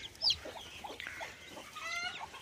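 Soft, low clucks from a desi hen mixed with high, thin peeps from her newly hatched chicks, scattered and close, with an occasional sharper chirp.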